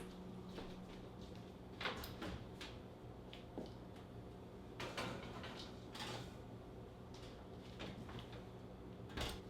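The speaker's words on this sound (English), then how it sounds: "now I'm gonna pop it in the oven" A dish is slid into an oven among kitchen clatter, with several clunks and scrapes of racks, doors and cookware, fairly quiet and close, without talking.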